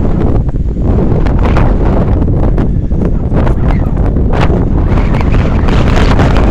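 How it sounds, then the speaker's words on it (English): Heavy wind buffeting a microphone outdoors at the Kutztown railroad station in Pennsylvania, a constant low rumble with gusty bursts throughout, drowning out any other sound. "I apologize for the wind."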